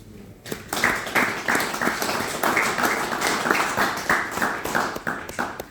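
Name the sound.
audience applause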